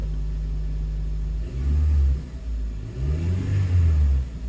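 A manual 2004 Honda Accord engine runs close by with fresh spark plugs, a steady low rumble that swells twice in brief revs.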